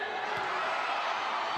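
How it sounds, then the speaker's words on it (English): A crowd at a women's volleyball match between the Philippines and Cambodia at the 2023 SEA Games cheers steadily after a Cambodian kill block, a dense, even roar of voices filling the arena. "the crowd rightfully happy about that"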